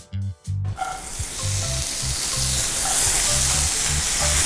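Garlic chives and bean sprouts stir-frying in a pan, with a steady loud sizzle throughout and a few short clatters of stirring near the start.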